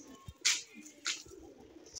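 Soft pigeon coos come in short low bursts, with a couple of brief wing flutters, quiet and close.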